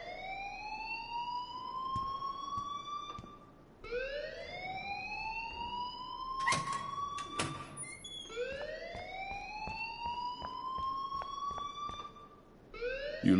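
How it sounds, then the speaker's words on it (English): A fire alarm in a video game wails in repeated rising sweeps, each lasting a few seconds, loud and steady, with sharp clicks and bangs breaking in partway through. "please turn off that alarm since that's your job"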